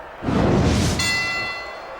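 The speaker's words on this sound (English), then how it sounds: "The bell rings here." Wrestling bell struck at the start of a match: a bright ringing tone with sustained metallic partials cutting in after a burst of crowd noise, ringing on steadily to the end.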